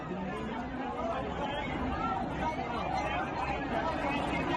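Dense crowd chatter on a packed New Delhi railway station platform, a steady wall of many overlapping voices with no single voice standing out, continuous and fairly loud throughout.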